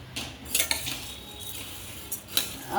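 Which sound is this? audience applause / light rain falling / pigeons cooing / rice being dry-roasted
rice being dry-roasted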